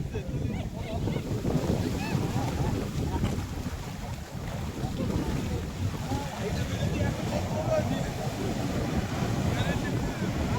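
Sea waves rush and wash up onto a beach in a steady, broad roar, with wind buffeting the microphone and faint voices mixed in throughout.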